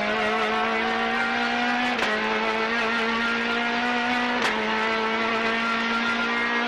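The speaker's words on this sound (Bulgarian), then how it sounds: "Пълно газ." A rally car on the Chumerna special stage runs at full throttle, its engine screaming in a high, steady tone with two sharp gear-change blips about two seconds apart.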